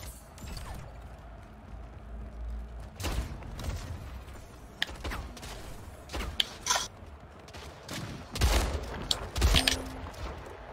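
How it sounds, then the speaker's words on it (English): Shotgun blasts go off in the Splitgate arena shooter amid mechanical clicks and reload clatter, a handful of punchy bursts spread unevenly over quiet game ambience. "I'm just using a shotgun."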